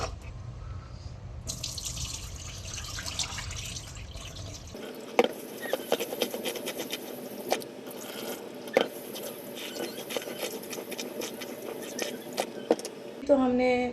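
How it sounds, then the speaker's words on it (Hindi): Rice being rinsed in water at a kitchen sink for biryani, with tap water running and splashing steadily, sharp clinks and drips throughout, and a louder burst near the end. "तो हमने कुछ पानी के साथ इसको वॉश किया है चावलों को"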